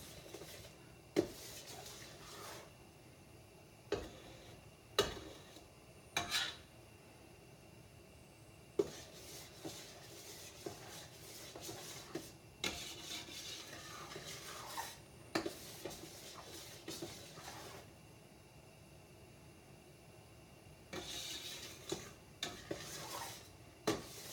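A spoon stirs a cocoa mixture in a pot for no-bake cookies, scraping steadily and quietly with occasional sharp knocks against the pot's rim, close by and without talk.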